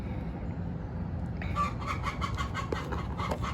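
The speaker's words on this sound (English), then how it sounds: "Quiet, chicken." A chicken clucks in a quick, rhythmic run of short calls outdoors, a little distant over steady background hiss.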